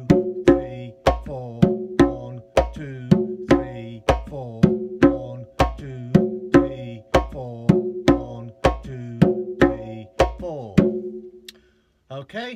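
A conga plays a steady Middle Eastern ostinato embellished with slaps, sharp evenly spaced strokes with ringing tones repeating for about eleven seconds before a short pause and one last hit, with no talk.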